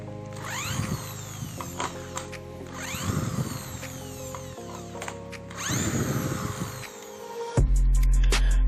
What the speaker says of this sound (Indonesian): Sekarang untuk melepas sekrup kita coba.